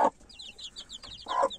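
Newly hatched turkey chicks cheep in quick, high, repeated peeps close by, with two short low voice bursts at the start and near the end.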